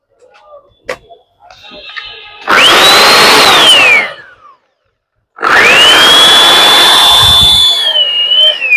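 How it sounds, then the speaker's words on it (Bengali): Variable-speed electric sander for rubbing down putty, heard in two loud, close bursts of high whining motor with a rising pitch and a ragged buzz. A short quieter run and a pause separate them. "এটা স্যান্ডার মেশিন, এটা দিকে পুটি ঘষা যায়"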